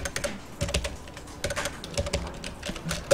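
AutoCAD commands are entered on a computer keyboard as a short run of close, crisp keystrokes in quick irregular bursts, with no voice.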